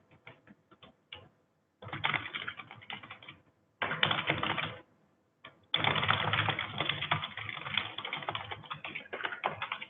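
Keystrokes clatter on a computer keyboard in bursts of rapid typing separated by short pauses, close and crisp, with no talking over them.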